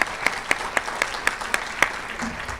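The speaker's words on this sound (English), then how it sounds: "how about you all give yourselves a nice round of applause" A large crowd claps at a campus State of the Campus address, dense steady applause with sharp louder claps standing out every quarter second or so, filling the whole stretch without voices.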